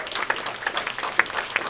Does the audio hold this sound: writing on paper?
no